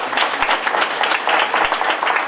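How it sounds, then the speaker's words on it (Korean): A crowd at a political town-hall event in Daegu applauds, steady dense clapping from many hands filling the space without pause. "그분들 위해서 박수 한번 쳐주세요."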